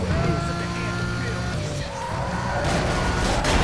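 Arcade-style car crash into a truck in Need for Speed: Most Wanted (2005), loud and continuous, with engine roar and tire noise throughout and a harsher broadband impact burst in the last second.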